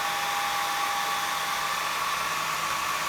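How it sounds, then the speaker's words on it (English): A hair dryer on low blows steadily nearby, a constant loud whooshing hiss with a faint motor whine, unchanging from start to finish. "use a hairdryer, put it on low. It'll be a bit noisy for the moment"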